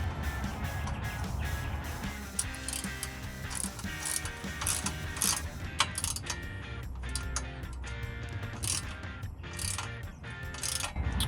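A ratchet clicks repeatedly in quick bursts while tightening an exhaust clamp on a 2015-2022 Dodge Challenger V8 Pypes axle-back, close and clear, with short pauses between strokes.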